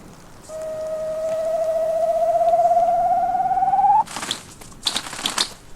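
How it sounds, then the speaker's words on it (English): A male Siberian grouse calls on its mating ground in the snowy far eastern winter: one long, thin whistle that slowly rises over about three seconds, then a few sharp bursts of rustling clatter, alone and fairly close. "A male Siberian grouse, taking a last stand against winter and marking his mating ground for next spring."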